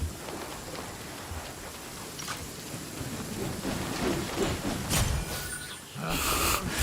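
Steady rain hiss with rumbling thunder in the Genshin Impact video game, a continuous wet patter that swells toward the end with a brighter burst of storm noise.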